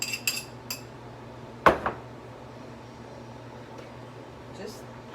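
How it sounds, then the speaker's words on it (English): A spoon stirs ingredients into cornbread dressing in a pan, giving a few sharp clinks and scrapes against the dish over a low, steady kitchen hum. "I'm just going to stir those in here"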